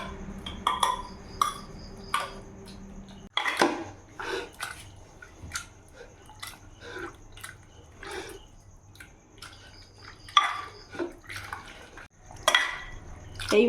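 Drumstick pulp mixture is strained through a sieve into a large bowl, giving wet, intermittent squelching and scraping with small splashes and clinks, close and uneven, with no talk.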